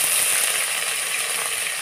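Onion paste dropped into hot oil with dried red chillies and whole cumin seeds, sending up a loud, steady, close sizzle that holds evenly for a couple of seconds.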